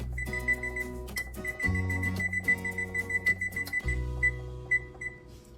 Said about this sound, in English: They still need to sit, so we're going to set another 30-minute timer.